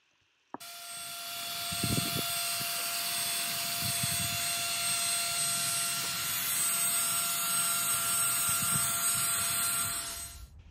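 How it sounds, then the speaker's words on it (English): A steady high-pitched whine of an 800-grit sanding disc spinning against a plastic headlight lens, with faint low scraping underneath, fairly close. "you will continue sanding over the lens again, but this time with the 800 grit sanding disc"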